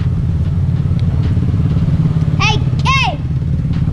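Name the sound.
old Winnebago motorhome engine running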